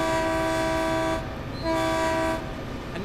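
Caltrain F40PH locomotive heard from the cab in the Train Sim World 2020 Peninsula Route, a loud sustained horn-like drone over engine rumble that cuts out briefly and sounds again.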